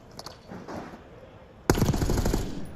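Rapid bursts of automatic gunfire from a Call of Duty match at a pro tournament, starting abruptly after quieter ambient game sound, loud and dense with no talk.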